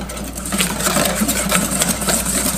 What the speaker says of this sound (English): the cream and the vanilla along with the powdered sugar. And we are going to whisk.